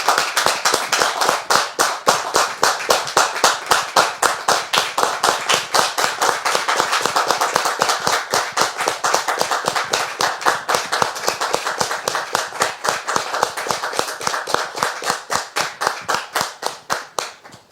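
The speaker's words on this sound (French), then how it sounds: "on la reçoit très cher public avec des applaudissements" An audience greets a guest with a long burst of clapping that falls into a steady, unison rhythm. The sharp claps stay loud and close throughout, then thin out and fade near the end.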